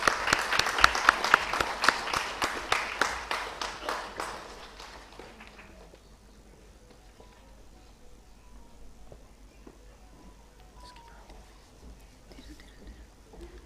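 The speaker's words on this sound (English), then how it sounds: "I request the audience to please keep clapping for these states." Audience clapping for state teams at a national World Patient Safety Day ceremony, a burst of brisk claps that fades after about five seconds into quiet room tone with faint stray sounds.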